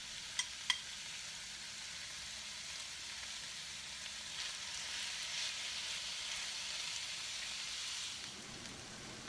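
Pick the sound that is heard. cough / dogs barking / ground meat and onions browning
ground meat and onions browning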